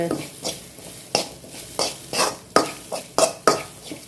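Coconut roasting in a pan with besan, stirred with a spoon, giving a run of close scraping strokes with sharp clinks of metal against the pan and a light sizzle, in an irregular rhythm with no talking.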